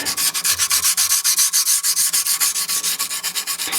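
Guitar frets are rubbed with 800 grit sandpaper during fret polishing, a fast, even back-and-forth scratching that repeats close up in a steady rhythm with no voices.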